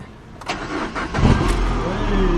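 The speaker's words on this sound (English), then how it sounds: "Can you start the car, John?" A car engine with a low battery turns over with a few stuttering cranks and then catches, rumbling on steadily; a voice is faintly heard nearby.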